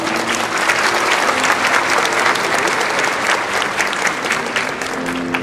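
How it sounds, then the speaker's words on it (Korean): Wedding guests at a ceremony applaud warmly right after the couple exchange vows, a steady, dense burst of clapping from a large crowd that fills the room, close and loud throughout. "혼인 서약을 나눈 두 분에게 축복의 큰 박수 보내주세요."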